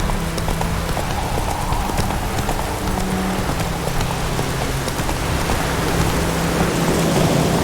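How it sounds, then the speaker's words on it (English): Horse hooves clip-clopping at a steady gallop in The Witcher 3: Wild Hunt, with rain hissing continuously and occasional low rumbles behind the rhythmic hoofbeats. "Run, Roach"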